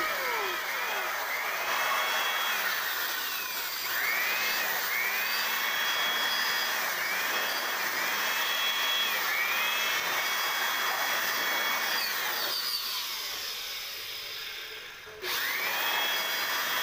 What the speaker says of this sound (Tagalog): So linisin muna natin mga sir, marami na siyang alikabok. Iba-blower muna natin siya.